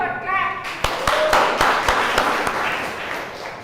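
Members of an Easter session audience clap in sparse, separate claps, roughly eight spaced hits over a few seconds, heard over a background murmur after a short stretch of talk.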